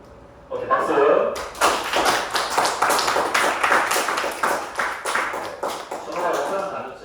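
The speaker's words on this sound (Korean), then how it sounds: "박수." After a brief quiet moment, a classroom of people breaks into brisk clapping that continues steadily, with a voice briefly heard at the start.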